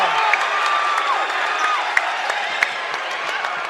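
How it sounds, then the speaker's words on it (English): High school basketball gym crowd roaring and cheering after a slam dunk in a men's game, a dense sustained wall of shouting and whistles with a few sharp claps, loud and continuous. "And the crowd goes wild."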